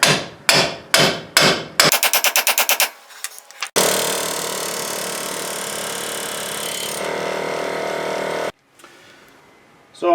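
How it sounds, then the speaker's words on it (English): Steel hammer blows drive a pickle fork into a truck's lower ball joint, a few sharp single strikes followed by a fast burst, then a long ringing metallic rattle and a final knock. "We'll just hammer that in there."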